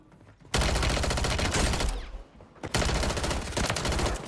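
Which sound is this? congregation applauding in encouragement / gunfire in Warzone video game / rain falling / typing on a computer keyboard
gunfire in Warzone video game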